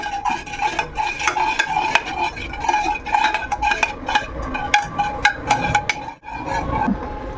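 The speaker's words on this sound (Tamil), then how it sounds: "இப்போ கொஞ்சம் பாலை கலக்கிக்கலாம்" Milk being stirred into health-mix porridge in a pot, with a spoon repeatedly scraping and clinking against the metal in a busy, steady rhythm, close and fairly loud, with no talking.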